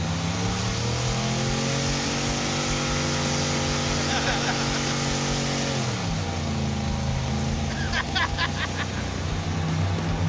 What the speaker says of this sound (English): We had to go to great lengths to smoke the tires.